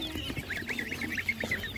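Geese and ducks at a Ukrainian animal market give a run of honks and clucking calls, close and fairly loud, with no talking.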